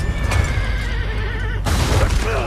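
A horse in Assassin's Creed Revelations gives a loud, close whinny over a dense rumbling game background, with a sharp burst partway through and no talk.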